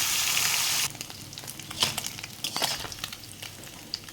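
Amudi fish coated in salt and turmeric frying in hot oil, a loud hiss at first that settles into a softer, crackling sizzle with scattered pops.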